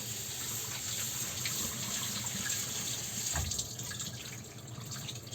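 Fresh fruit rinsed under a running kitchen tap for a creamy fruit salad, a steady close gush of water splashing into the sink throughout, with a brief heavier splash midway and no talking.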